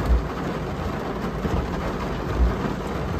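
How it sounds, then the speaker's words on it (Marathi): Heavy monsoon rain in Mumbai pours down steadily as a dense, close hiss, with low rumbling thuds underneath and no voices. "किती वेळ अजून पाऊस लागतोय।"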